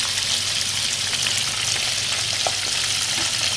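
Chicken pieces for salt and pepper chicken fry in hot oil, giving a loud, continuous crackling sizzle with soft stirring sounds throughout a short stretch and no voices.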